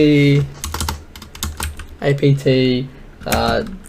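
A computer keyboard is tapped in short bursts of quick keystrokes as a command is entered, with a voice speaking over and between the clicks, close and fairly loud.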